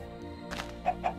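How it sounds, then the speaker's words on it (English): Chickens in the Minecraft video game cluck twice in short, fairly loud bursts over a steady droning game backdrop, with no talking. "punching the dirt blocks now that I'm running this code means that these chickens appear"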